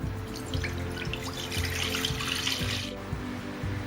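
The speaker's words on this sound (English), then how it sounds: "In a pan, add the milk." Milk pours into a cooking pan for an Indian sweet, a steady liquid splash and trickle that runs without a break for a few seconds and then eases off near the end.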